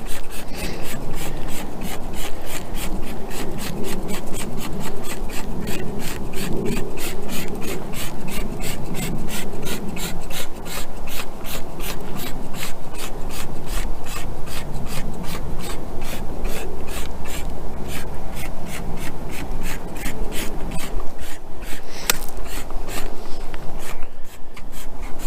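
Brush scrubbing on a dirty car wheel coated in brake dust during a wheel-cleaner test, a steady rapid back-and-forth rubbing rasp that runs continuously and close up with no talking.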